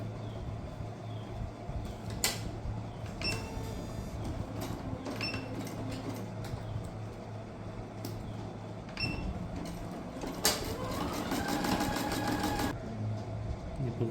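Embroidery sewing machine stitching steadily, with a rapid mechanical whir and clatter, punctuated by brief pauses and a few sharper clunks.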